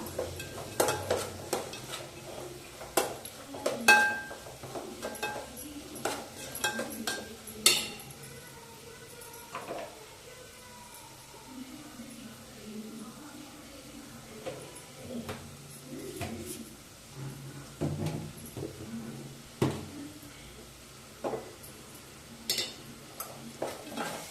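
Tamarind rice being stirred with a spoon in a pot as the tempering is mixed in, giving soft scraping and occasional clinks of utensil on metal over a faint sizzle, irregular and close.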